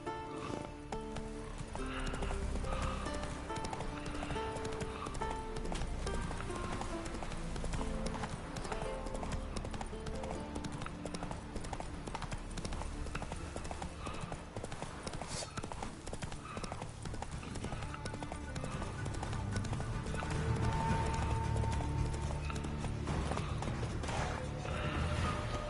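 Horse galloping in the video game The Witcher 3, a continuous rhythmic clip-clop of hooves under game music and ambience, with a faint neigh.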